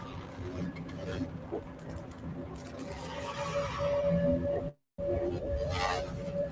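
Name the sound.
sonified gravitational waves of black hole falling into black hole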